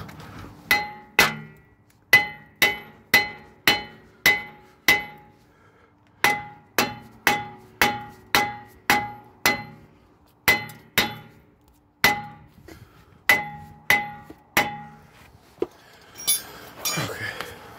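Hammer blows ring out on rusted brake parts of a 2000 Lincoln Navigator, a long series of sharp metallic clangs in bursts with short pauses between them, close and fairly loud, with a little rustling near the end.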